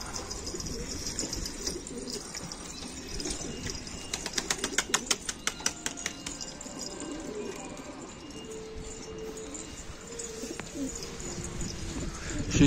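Pigeons coo softly around a rooftop loft, with a rapid run of clapping wingbeats midway and quiet background noise throughout.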